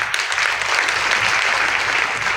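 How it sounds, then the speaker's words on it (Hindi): Steady audience applause filling a hall, a dense even patter of many hands clapping for a couple of seconds with no speech on top. "जोरदार तालियां होनी चाहिए दोस्तों"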